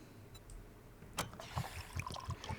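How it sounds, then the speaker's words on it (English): A weapon reload in a 7 Days to Die Alpha 21 mod that sounds like gasoline being poured, with a liquid trickling, glugging texture and a few soft clunks over about two seconds, moderately quiet. "It sounds like you're pouring gas in, which is the only thing I don't really like"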